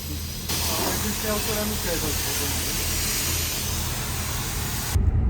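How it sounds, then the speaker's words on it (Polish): Foam spray hissing steadily onto a car during a wash, a loud continuous broadband spray that runs almost without break, with a voice talking faintly underneath. "Mycie auta z pianą to jest inny level mycia w ogóle"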